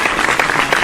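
Brief applause from a small audience at a podcast recording, a steady patter of clapping filling the short moment at moderate loudness.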